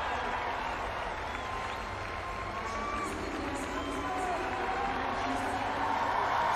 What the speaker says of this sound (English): Getting huge cheers from the Belarus crowd on the far side.